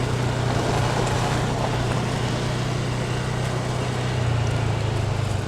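A motorcycle ridden along a rural road past fields in Thailand, a steady engine drone mixed with rushing wind noise, continuous and close with no talking.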